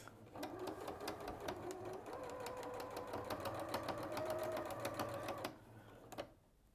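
Close and steady, a sewing machine whirs as it stitches a bag, a continuous rapid mechanical chatter lasting about five seconds before stopping, followed by a brief click.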